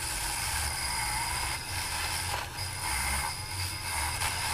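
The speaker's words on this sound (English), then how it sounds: "Super handy little cordless Dremel tool" Cordless Dremel rotary tool grinding corrosion off a Simpson 260 Series 3 multimeter, a fairly quiet, continuous buzzing whir with slight wavering bursts throughout, no voices.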